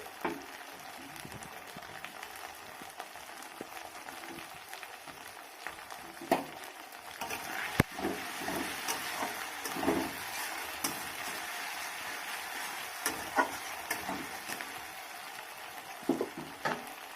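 Chopped tomato lands on ginger paste in a hot pan and fries with a soft, steady sizzle. A spoon stirs and scrapes now and then, the whole sound quiet and close.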